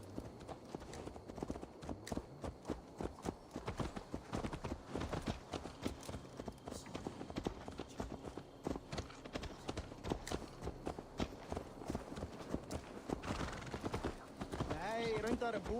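Horse hooves clip-clop steadily at a walk in the Viking-era game Assassin's Creed Valhalla, a dense rhythmic patter running through the whole stretch beneath game ambience and voices.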